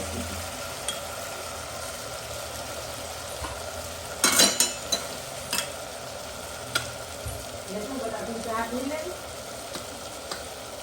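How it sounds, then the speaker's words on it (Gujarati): Spice masala for a cluster bean and potato dish roasts in hot oil with a steady low sizzle. A brief clatter of stirring cuts in near the middle, followed by softer scraping. "હવે આને થોડીક વાર માટે આપણે તેલની અંદર શેકાવું"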